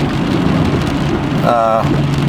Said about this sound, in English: Rain is lessening quite a bit out here